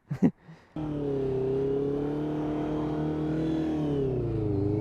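A 2023 Honda CBR 650R motorcycle engine starts and revs hard for a wheelie, a sustained close-up high-pitched drone whose pitch rises and dips steadily after a few brief knocks at the start.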